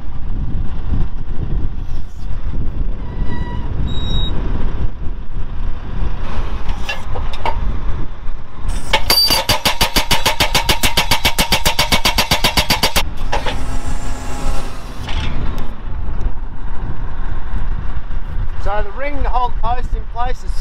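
A post driver hammers a plastic-coated Woodshield post straight down onto rock in rocky ground, a fast run of loud, evenly spaced metallic blows lasting a few seconds, framed by outdoor talk and ambient noise.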